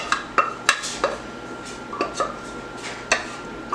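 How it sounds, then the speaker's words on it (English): Clinks and scrapes of a utensil against a baking dish as rice goes in for a chicken and rice casserole, a series of sharp, close taps about every half second with quiet room tone between. "We're going to go ahead and put our rice in there."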